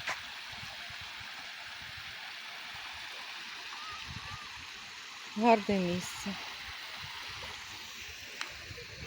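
A small river stream flows with a steady, soft rushing hiss that stays even throughout, and a person speaks briefly over it midway.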